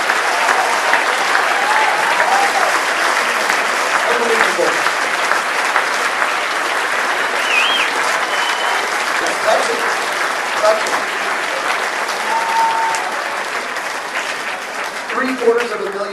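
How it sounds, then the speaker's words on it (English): Loud, sustained audience applause at a charity auction fundraiser honoring a bidder, a dense wash of clapping that holds steady throughout and eases slightly near the end, with voices mixed in. "Another huge round of applause, folks."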